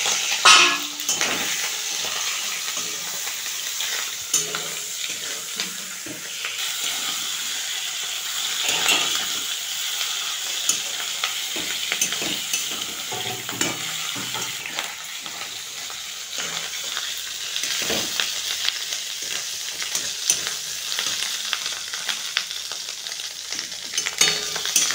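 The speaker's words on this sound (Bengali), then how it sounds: "আমার মাছের তেল আর ডিমটা ভাজা হয়ে গেছে" Fish roe and fish oil frying in a pan, a continuous loud sizzle with frequent spatula scrapes and clinks of the pan running throughout, no one speaking.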